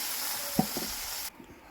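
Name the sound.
fish frying in hot oil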